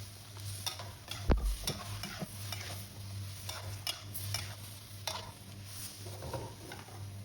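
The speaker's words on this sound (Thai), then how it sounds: "ขอเติมน้ำเปล่านิดนึงนะครับ ผัดให้เข้ากันอีกรอบครับ" Mussels with holy basil stir-fried in a pan: a spatula scrapes and clatters against the metal in irregular strokes over a low continuous sizzle, with one sharp knock partway through and no talk.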